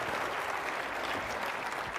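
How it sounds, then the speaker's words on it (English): Steady applause from a conference audience, a dense wash of clapping that holds at an even level throughout. "let's give the Secretary a round of applause"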